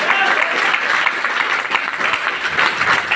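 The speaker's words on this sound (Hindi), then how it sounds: "तालियां तो बजाना बनता है।" An audience claps loudly and steadily throughout at a motivational talk in Damoh, a dense, sustained round of applause with no voices over it.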